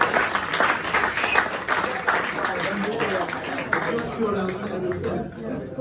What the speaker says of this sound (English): At this point, folks, we are worthy of a round of applause